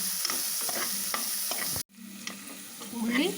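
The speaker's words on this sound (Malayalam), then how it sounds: "ഒരു വലിയ ഉള്ളി അരിഞ്ഞതും ഇട്ട് കൊടുക്കണം. ഇത് നന്നായി ഇളക്കി ഒന്ന് വഴറ്റിയെടുക്കണം." Chopped large onion sautés in a pan for a cassava dish, a steady close sizzle with scraping stirs, interrupted by a short break before the frying resumes and swells.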